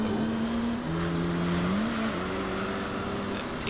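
Race cars from Gran Turismo 3, including an FTO, an Altezza and an RX-7, hold a steady engine drone with pitch dips and rises as gears change, with no one speaking.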